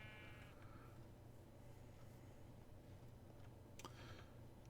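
Sheep in the Minecraft video game bleat once briefly, faint beneath steady background hum and a couple of soft clicks.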